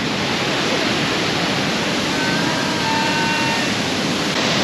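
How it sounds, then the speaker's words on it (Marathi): Steady, dense roar of rushing water from Kalu Waterfall in Malshej Ghat, loud and constant throughout, heard from close by with no voices. "काळू वॉटरफॉल ना इथून बघा"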